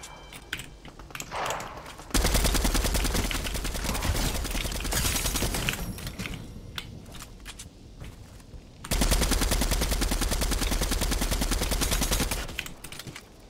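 Rapid automatic gunfire from a gun in Fortnite Chapter 3, two long loud sustained bursts of dense shots separated by a quieter pause with faint game sounds.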